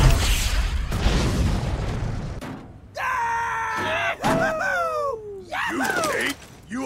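Rocket explosion in the shooter Borderlands: a heavy booming blast with crackling debris, followed by shouting and groaning voices from the game.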